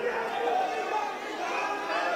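Youth wing supporters at a Pakistan Tehreek-e-Insaf political rally chant slogans together, a dense, sustained crowd roar with steady rhythmic swells across the whole stretch.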